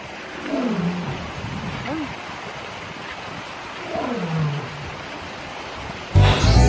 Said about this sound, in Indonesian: Wow, ada seekor singa